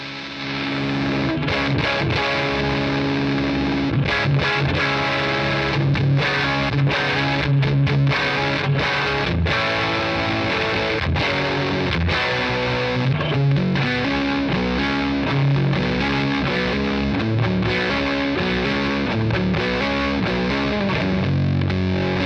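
A distorted electric guitar played through a Bigfoot Engineering King Fuzz pedal plays a continuous riff with a thick fuzzy tone, loud and steady throughout, with no voices.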